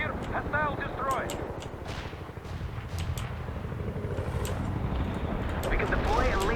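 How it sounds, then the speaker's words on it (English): Gunfire and artillery rumble through a World in Conflict battle, a dense, continuous roar of shots and explosions with sharp cracks scattered throughout, while radio-style voices speak over the combat. "Artillery strike on the way."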